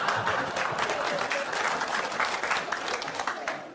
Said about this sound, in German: das war jetzt für Meerbusch schon erstaunlich viele Klatscher an der Stelle.